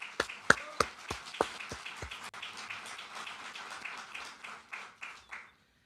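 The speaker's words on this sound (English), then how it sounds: "So give Lunar Outpost a round of applause." A small audience at a NASA Moon base update claps for Lunar Outpost: a few sharp, separate claps at first, then a thin, steady round of applause that trails off and stops.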